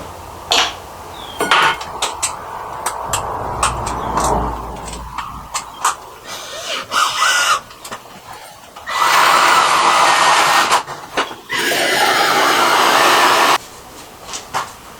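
Drill boring a pilot hole into wood for a box drum build, with short bursts early on and then two long, loud steady runs of the bit cutting through the timber.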